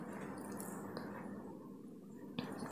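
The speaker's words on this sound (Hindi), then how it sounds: "ये देखिए बॉईल आना शुरू हो चुका है" Papaya pieces simmer in sugar syrup for homemade tutti frutti, giving a steady soft bubbling and sputtering wash with small pops throughout, close and continuous, with no talk.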